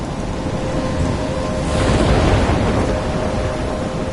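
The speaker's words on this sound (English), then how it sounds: "I'm trapped in a storm?" A storm in the video game Life is Strange: a steady, loud rush of rain and wind with a deep rumble of thunder that swells near the middle and then eases back, heard alone without voices.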